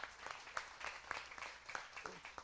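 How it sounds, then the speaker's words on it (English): A church congregation at a family-themed service claps, with individual sharp claps spaced irregularly and fairly faint, rather than a dense ovation. "Yeah, clap it up for that."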